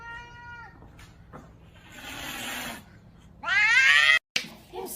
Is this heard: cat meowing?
yes